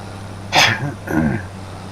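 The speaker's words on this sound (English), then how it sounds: "A bunch of sneezes." A single loud sneeze bursts out, followed by a rougher second exhale or half-sneeze, close to the microphone over a low steady hum.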